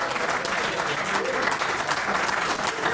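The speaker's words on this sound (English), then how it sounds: "Big round of applause" A room of members at a club dinner breaks into steady, even applause, many hands clapping together at moderate loudness for a few seconds.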